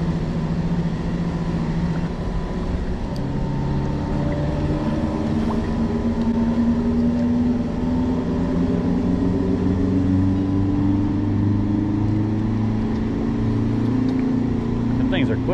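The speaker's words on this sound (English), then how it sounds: "All right, there goes the boat." Motorboat passing by on the water near a flounder fishing spot, a steady droning engine hum that holds close and loud while people talk over it.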